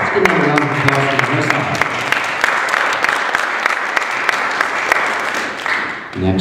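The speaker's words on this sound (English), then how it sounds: "Let's give another round of applause for" A crowd at a poetry slam event claps loudly for a poet after scores are read, close, dense applause with some whoops and voices mixed in, briefly dipping before a voice returns at the end.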